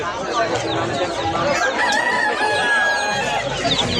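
A Brahma rooster crows loudly and close by at a busy livestock market, with clucking from other fowl and market voices mixed underneath.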